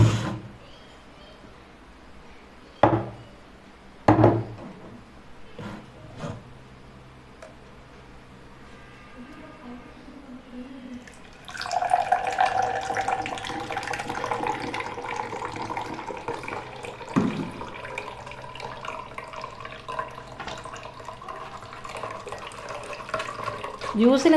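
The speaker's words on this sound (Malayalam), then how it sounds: "ഇനി നമുക്ക് ഒരു ഗ്ലാസ്സിലേക്ക് ഫിൽട്ടർ ചെയ്തെടുക്കാം." Blended chambanga juice being poured through a strainer into a glass, a soft trickling stream that starts partway through and runs on steadily, with a few knocks and handling sounds before it.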